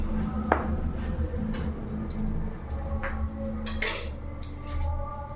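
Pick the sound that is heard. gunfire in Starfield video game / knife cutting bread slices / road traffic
knife cutting bread slices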